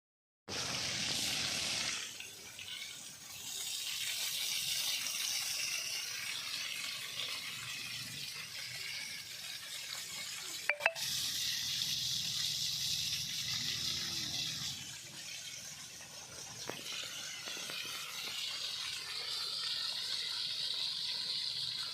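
Steady pouring water splashes continuously onto betel plants in a garden, fairly close, with a brief faint clink partway and no voices.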